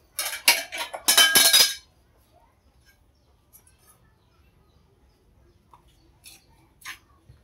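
Sticky rice cakes being flipped and shuffled in a frying pan: a short burst of clattering, scraping metal-on-pan knocks up front, then near quiet with a few faint clinks later.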